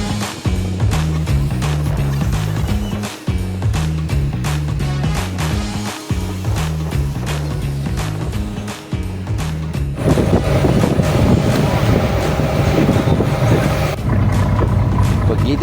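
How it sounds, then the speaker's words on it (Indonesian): Loud, dense engine drone and wind buffeting from a fishing boat approaching over waves at sea, with rhythmic low throbbing that swells into heavier rushing water and wind noise midway. "Tak lama kemudian kapal itu mulai mendekat."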